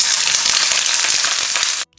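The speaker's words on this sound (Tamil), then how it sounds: "ஒரு 2 tablespoon ஆயில் விட்டு இதை நல்லா ஃப்ரை பண்ணிக்கோங்க." Garlic and ginger fry in about two tablespoons of oil for chicken biryani, giving a loud, steady sizzle with dense crackling that runs unbroken and then cuts off abruptly.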